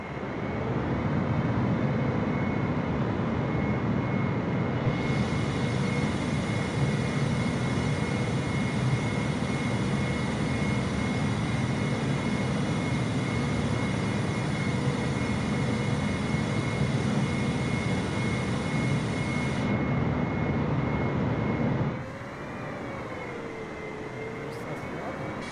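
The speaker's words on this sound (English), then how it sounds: "I'm going to turn on the reverse thruster" Boeing 747 reverse thrust in Microsoft Flight Simulator 2020, a dense, continuous engine roar with a high whine that holds for most of the clip before dropping to a quieter hum.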